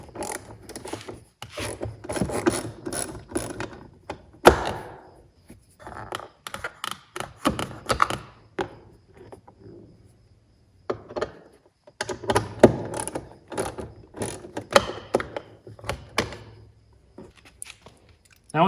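A T25 driver grinds and scrapes as it turns two door handle screws loose on a Chevy Malibu door panel. The rasping comes in close, uneven bursts with a short quiet gap midway, and no one speaks.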